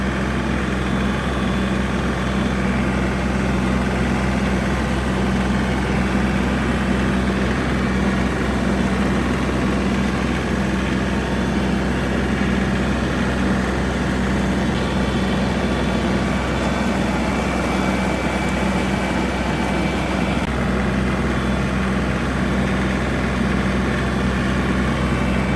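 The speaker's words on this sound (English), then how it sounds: "I'm gonna get on the tractor and" A tractor engine drones steadily and loudly throughout while working a food plot, a constant low rumble with no pauses.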